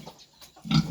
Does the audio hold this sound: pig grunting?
yes